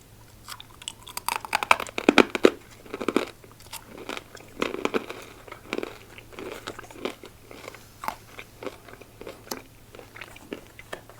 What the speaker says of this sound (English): let's get into it with some very crunchy kernels